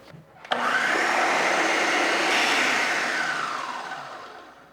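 An electric mixer whirs steadily through French toast batter of eggs and cinnamon in a bowl, switching on sharply and running loud and close for several seconds before slowly winding down.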